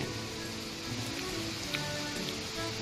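Light rain falling at night in Sattahip, Thailand, a soft steady patter with faint scattered drips, quiet and continuous with no voices.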